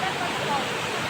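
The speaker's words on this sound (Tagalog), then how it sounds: "Balagbag Falls" Balagbag Falls, a waterfall reached by a short hike, gives a steady, close, broadband roar of falling water that stays unbroken and fairly loud throughout, with no clear talk over it.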